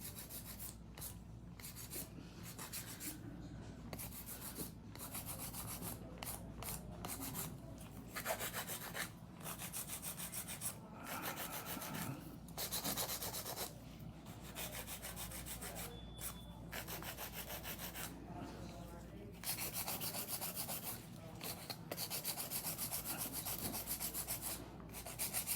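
Acrylic nails being filed quickly by hand with a nail file make a continuous dry rasping rub, quiet and close, in rapid back-and-forth strokes with brief pauses, with no talking.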